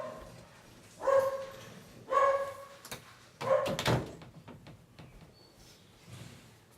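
Dogs barking indoors at a home, three loud bursts of barks about a second apart followed by fainter yips and scuffles, with a door sound nearby and no talk.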